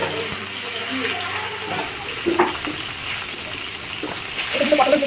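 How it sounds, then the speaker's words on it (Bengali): Potatoes frying in oil with whole spices in a kadai give off a steady close sizzle with faint stirring clinks, and a hum in the background drops away partway through. "ফোড়নে আলু দিয়ে দেবো। আলুগুলো লাল লাল করে ভেজে নেব।"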